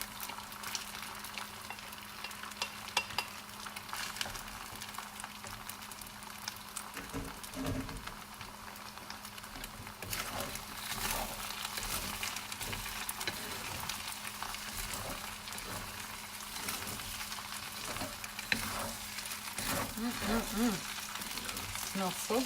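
Drunken noodles fry in a hot pan with a steady sizzle and scattered pops and crackles, occasional stirring scrapes breaking through, with no talk over the cooking noise.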